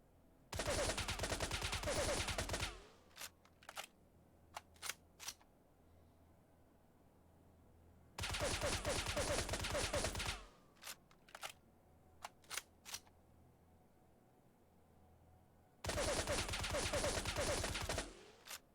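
An HK G3A1 battle rifle fires in a video game in three long bursts of rapid automatic fire, each about two seconds, separated by pauses with scattered sharp single clicks or shots.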